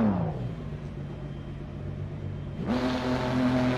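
A supercar engine in a VR racing game idles with a steady low hum, then catches and rises into a louder, brighter drone near the end, with no talk over it.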